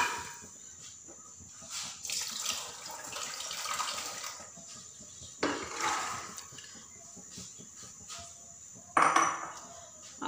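Washed black chickpeas tipped into a pressure cooker sitting on a stove, heard as wet rattling and clattering against metal in a few close bursts, the loudest near the end, over a faint kitchen background.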